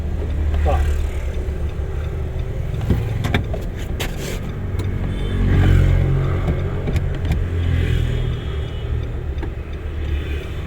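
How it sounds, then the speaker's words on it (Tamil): A car's engine idles and runs steadily at close range during a driving lesson, a low hum that swells slightly midway, with scattered clicks and thumps from inside the cabin. "வண்டி ஸ்டார்டிங்கில் தான் இருக்குது"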